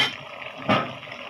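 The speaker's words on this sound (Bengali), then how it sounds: "আমি এখন পানি দিয়ে দিব" Water poured into a pot of cooking curry with papaya and chicken, heard as a short rushing splash near the middle, set against a steady background hiss.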